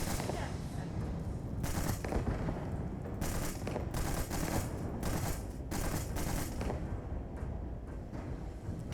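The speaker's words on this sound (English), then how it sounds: "We're shooting them." Rapid gunfire bursts from a firefight against enemies in the space game Starfield, repeated volleys crackling over a dense background of combat noise, moderately loud throughout with a few sharper peaks.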